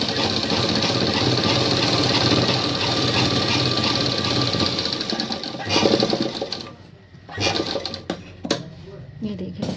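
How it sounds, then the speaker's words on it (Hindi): A sewing machine stitches a single line on fabric, whirring fast and loud up close for several seconds before stopping, then starts again in short bursts while someone talks quietly. "यहाँ पे मैं एक सिलाई और दे दूँगी यहाँ पे।"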